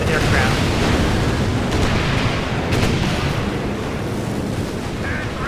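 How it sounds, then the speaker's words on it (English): Airstrikes hit the ground in the strategy war game Company of Heroes 2, a dense, continuous roar of booming explosions and rumble with a commentator talking over it. "Both these airstrikes now coming on in"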